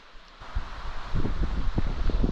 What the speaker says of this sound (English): A little breezy today, so hopefully this dies down before we go out.